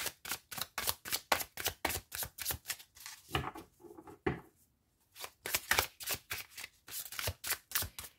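Pre-Raphaelite tarot cards with major and minor arcana are shuffled in rapid, crisp riffling bursts, a steady rhythm with a short pause midway before the shuffling resumes close by.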